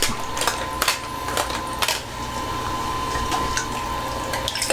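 Liquid sloshes inside a film developing tank being agitated, a soft steady churn punctuated by a few short rhythmic knocks and splashes, heard close with no voices.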